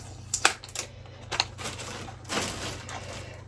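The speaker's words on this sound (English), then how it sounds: "just gotta take the sticker off" A sticker being peeled off new maternity clothing gives a few sharp crinkly rips and a longer scratchy pull, close by with a low steady hum underneath.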